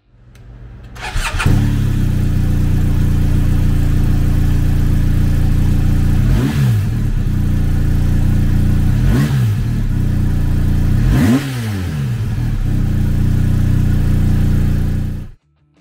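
A 2022 BMW R1250RT Premium motorcycle with a 1,254cc two-cylinder engine starts close by and idles loudly, then revs up three times before cutting off.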